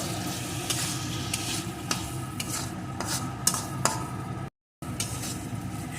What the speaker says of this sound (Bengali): এখন এটাকে মশলার সাথে ভালো করে কষিয়ে নেব